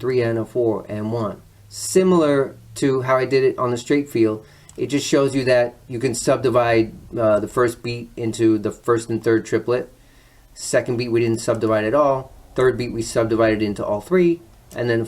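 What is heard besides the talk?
No distinct noise like a dog, phone or traffic.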